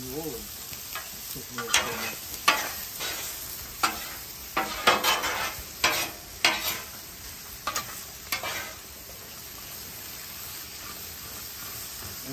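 Onions and jalapenos frying on a griddle, a steady sizzle broken by repeated scraping and stirring strokes that come roughly every second, then settle into an even hiss.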